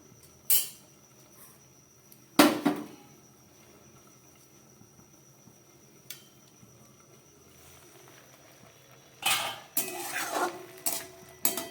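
A lid goes onto a pot of boiling mung dal, giving sharp metallic clanks spread over a quiet kitchen background, with a cluster of clattering knocks near the end.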